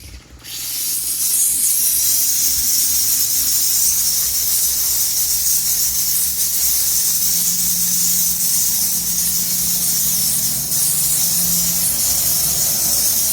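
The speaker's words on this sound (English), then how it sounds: "So I'm going to turn it on and turn it to 3. And it should come on and start spraying." A SakerPlus dual-control handheld steam cleaner blasts hot steam at grease and oil: a loud, continuous, airy hiss that starts after a brief moment and holds steady throughout, alone.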